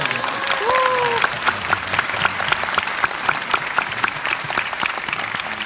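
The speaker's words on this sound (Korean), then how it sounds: "이 자리를 가득 메워주신 여러분들이 가장 많은 박수를 받아야 합니다" Packed hall audience at a talk concert in Japan bursting into loud, sustained applause, thick crowd clapping with scattered sharper claps and a few cheers mixed in.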